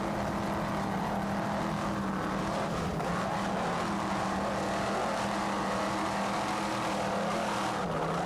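Racing powerboats roar over choppy Gulf of Mexico water at the 1994 South Padre Island Grand Prix in Texas. A dense, steady engine drone runs unbroken from start to finish.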